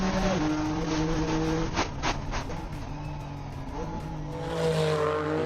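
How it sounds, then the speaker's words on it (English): A custom-built GT-R race car running on the Simola hillclimb track, its engine droning with shifting pitch and a brief tire squeal, loud and steady as it passes close by. "The last car is on track here"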